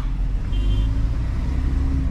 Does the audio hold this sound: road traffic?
yes